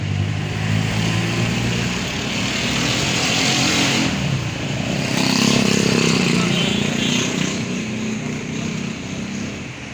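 Motorcycles and cars pass through the Chakswari bazaar in Mirpur, Kashmir, engines droning nearby with one louder pass midway, while someone talks over the traffic.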